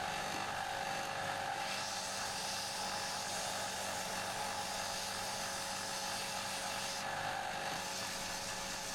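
A belt sander with a 180-grit belt runs on scrap wood, giving a steady whirring, rushing drone at an even level throughout with no talking.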